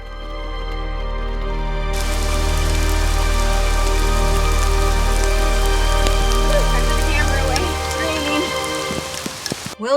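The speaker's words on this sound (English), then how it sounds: "It's actually hailing too." Dense rain and hail drum steadily on a car roof, a loud continuous patter with scattered sharper ticks of hailstones.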